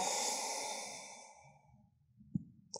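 A long, soft exhale during a yoga cat-cow pose, fading out over about two seconds, followed by a couple of faint small noises.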